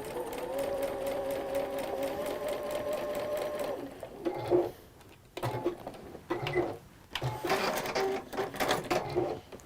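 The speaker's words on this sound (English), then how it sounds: "because I'm sewing on the line" Sewing machine stitching fabric along a marked line, running steadily for about four seconds, then continuing in shorter bursts with pauses and handling noises between them.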